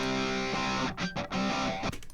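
Distorted guitar run through the STL Tonehub California preset amp plugin, a loud, dense pop punk style tone with chugging chords and brief gaps, heard alone.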